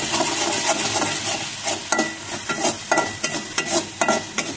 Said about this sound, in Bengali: এবারে সামান্য জিরা গুঁড়া এবং ধনে গুঁড়া, লবণ এবং পর্যাপ্ত পরিমাণ হলুদ এবং অল্প পরিমাণ শুকনো মরিচের গুঁড়া দিয়ে এটাকে কষিয়ে নেব।